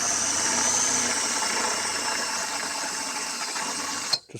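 Drill with a 1/4-inch bit grinding the heads off 3/16 rivets on a Polaris RXL snowmobile chassis, a steady close whirring buzz that runs continuously and cuts off abruptly near the end with a short clunk.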